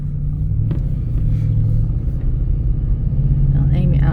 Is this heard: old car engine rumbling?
yes